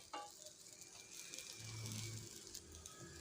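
Indian gooseberries sauté in a pan for chutney, giving a soft, steady sizzle close by with a faint stirring scrape and no talk.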